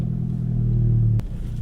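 Tuned EQT Stage 2 MK7 idling to warm up in snowy weather: a steady low engine drone with a faint tonal hum, close and continuous, briefly interrupted by a sharp click near the end.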